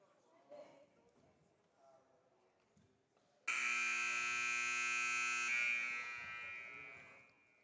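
After quiet background murmur at a wheelchair basketball game, a loud electric buzzer sounds abruptly and holds steadily for several seconds before tapering off.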